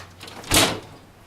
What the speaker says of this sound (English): Watch it, I'm going to slam the door.